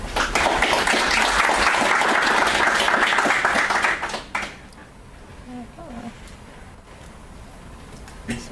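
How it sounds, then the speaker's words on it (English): An audience at an Edinburgh mobile development meetup claps for about four seconds, then the applause fades, leaving a quiet room with faint shuffling and small knocks. "everyone please give her a round of applause for Lisa"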